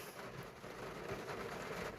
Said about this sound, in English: It started to rain, that's why I had to come inside.